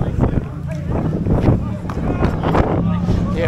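Gusty wind buffets the microphone outdoors on a Waitangi Day gathering in Wellington, with rumbling low thumps and bursts under people talking throughout.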